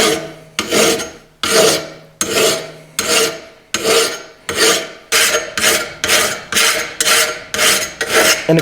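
A hand file rasps across a steel lawn mower blade while sharpening it, in a steady series of about a dozen loud, close strokes, each a harsh scraping burst with short gaps between.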